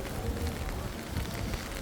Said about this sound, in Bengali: বৃষ্টি কমতেছে